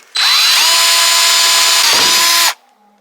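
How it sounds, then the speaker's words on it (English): A power drill bores into a plastic IBC water tank in an off-grid garden, one loud, close, steady whine lasting over two seconds that dips slightly near the end before stopping abruptly. "So got me drill, I'm just going to drill in here."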